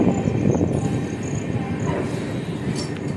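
A WAP-7 electric locomotive hauling an express train accelerates on the Kota–Jaipur line, heard as a loud, steady rumble of wheels and rails with faint whining tones above, close and continuous.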